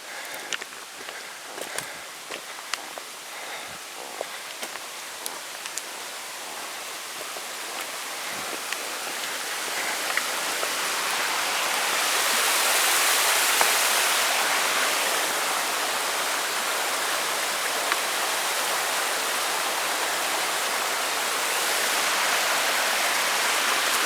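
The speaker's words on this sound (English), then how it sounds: "Little creek crossing here." Creek water rushing at a crossing on Alaska's Carter Lake Trail, a broad steady hiss that swells louder midway as it draws nearer, with scattered footsteps and crunches early on.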